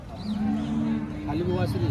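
A cow at a cattle market lets out a long, loud, close moo lasting nearly the whole moment, with a second lowing call starting near the end and faint crowd noise behind.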